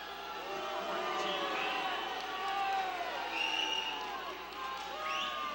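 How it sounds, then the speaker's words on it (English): A basketball crowd at a regional tournament game voices steady disapproval of a foul call, a sustained mass of shouts and murmurs with some whistling, while an announcer talks over it. "Crowd doesn't"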